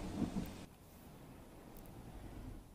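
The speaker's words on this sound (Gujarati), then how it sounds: "જૂનાગઢના માળિયા હાથીનામાં મુશળધાર વરસાદ" Torrential monsoon downpour in Junagadh, Gujarat, with a brief deep thunder rumble at the start giving way to a steady, dense roar of rain and wind, no voices.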